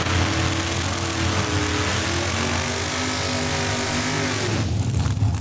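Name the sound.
dragster racing at Saskatchewan International Raceway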